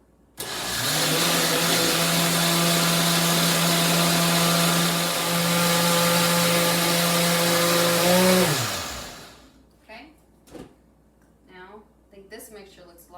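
A kitchen blender whirs loudly and steadily for about eight seconds while mixing homemade horchata, its pitch sliding as it winds down, followed by faint clatter and brief talk nearby.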